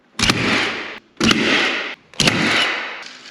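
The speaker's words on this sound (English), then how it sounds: "So let's nail this up and I'll talk about why I'm nailing it." Three loud, evenly spaced bursts, each a sharp attack followed by a sustained roar lasting most of a second, heard while OSB sheets are fixed to a tall ceiling with a nail gun.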